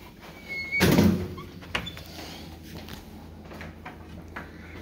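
A side door of a house opening and closing, heard as a loud thump followed by a lighter click about a second later, fairly close in a quiet room.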